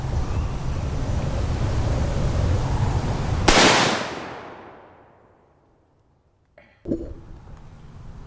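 A .243 Winchester rifle firing a 100 grain round into an AR500 steel plate: one sharp loud crack over steady outdoor wind noise, decaying slowly into silence, then a brief clattering knock and the wind returning.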